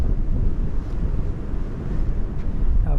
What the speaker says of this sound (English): Now if I turn around into the wind